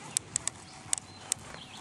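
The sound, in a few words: horse jogging, hooves clip-clopping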